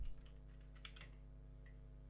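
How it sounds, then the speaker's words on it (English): A computer keyboard is tapped in a few quick, faint keystrokes as a password goes in, over a steady low electrical hum, with no voices. "Type in your password"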